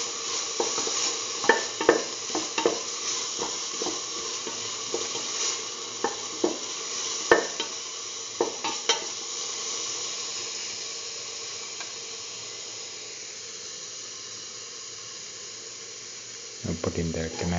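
Ground beetroot mixture and shallots being salted and stirred in a pan, with scraping spoon strokes over a steady sizzle and hiss, the stirring dying away near the end.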